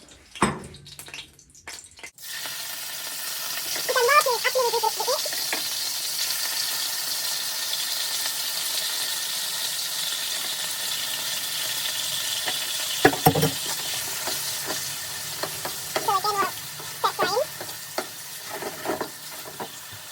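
Liver frying in oil in a pan and stirred while making Nigerian fried rice; a continuous sizzle starts after a brief pause, with occasional scraping stirs rising above it.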